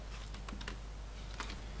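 Computer keyboard typing during a Half-Life 2 speedrun: a handful of quick, close keystrokes in two short bursts over a low steady hum, with no voices.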